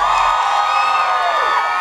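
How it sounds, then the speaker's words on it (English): Crowd cheering and whooping for a contestant on a blind-date elimination show, a dense, steady roar of voices sustained through the moment. "settle down so I can hear who's getting the applause"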